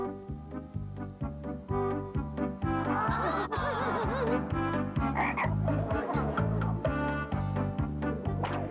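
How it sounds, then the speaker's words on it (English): Repeated cartoon frog croaks from a trained performing frog, steady and fairly loud over bouncy music, with no talking. "That was Mr. Small, the greatest frog trainer in the world"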